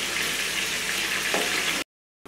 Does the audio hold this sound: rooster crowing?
no